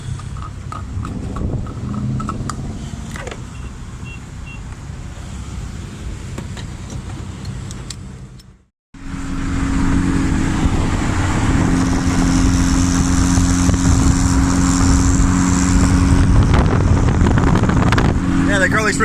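A turbocharged D16 Honda Civic drives down the road, its engine a steady loud drone with wind rush; after a brief dropout the engine note returns stronger and sustained under load.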